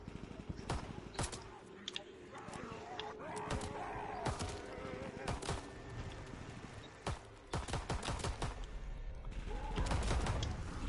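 Rapid gunfire cracks again and again in a World War II zombies video game, with sharp shots in irregular bursts over a dense, loud game soundscape, and voices talk underneath.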